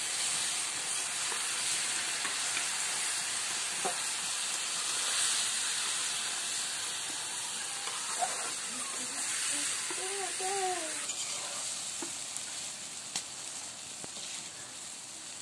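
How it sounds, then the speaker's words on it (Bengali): Chicken bhuna fries in a pan while being stirred, giving a steady, close sizzling hiss throughout with a few faint chirping sounds and light scrapes over the top. "সবকিছু দেওয়ার পর একটু আমার আম্মু বারে বারে নেড়ে দিতেছে, আপনারা একটু বারে বারে নেড়ে দিবেন।"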